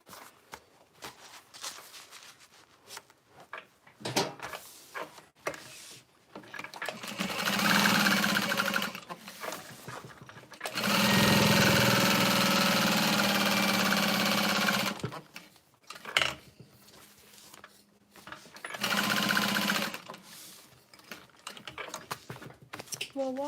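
A sewing machine bastes foam layers for a tote bag in several loud, sustained bursts of rapid stitching separated by pauses. Quieter handling noises fill the gaps.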